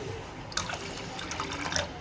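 Water is poured into a gram flour kadhi as it thickens on the boil, a continuous liquid splash and trickle starting about half a second in and running steadily to the end, close and moderately loud, with no talk.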